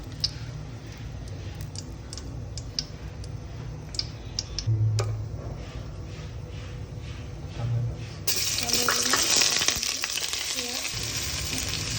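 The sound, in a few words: bay leaves sizzling in mustard oil for tehari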